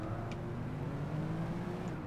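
TVR sports car accelerating in the racing game Project Gotham Racing, a steady engine drone holding a low tone that rises slightly, continuous and moderately loud with no talking.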